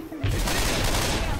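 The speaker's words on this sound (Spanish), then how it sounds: "¿En serio me llegó los fragmentos de la explosión acá?" An explosion in the video game Left 4 Dead 2 bursts in after a brief quiet moment and rolls on as a loud, crackling roar, like rapid debris or gunfire, filling the rest of the moment.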